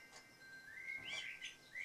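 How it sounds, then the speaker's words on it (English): Male house sparrow chirping in a short series of bright tweets, fairly faint and distant against a quiet outdoor background, with no talk. "It's our resident sparrows. That's the male sparrow up there."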